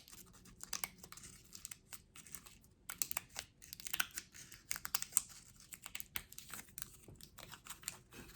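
A Reese's peanut butter cup being unwrapped close up, with crisp crinkles and tearing rustles of the wrapper in irregular bursts and a few short pauses.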